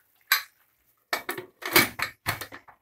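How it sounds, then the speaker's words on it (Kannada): A pressure cooker lid is closed over a spicy chicken gravy, giving a series of sharp metallic clanks and scrapes in quick clusters, close and loud, with silence between them. "ನಾನು ಕುಕ್ಕರ್ ಲಿಡ್ ಕ್ಲೋಸ್ ಮಾಡಿ ಮಾಡ್ಕೊತಾ ಇದ್ದೀನಿ"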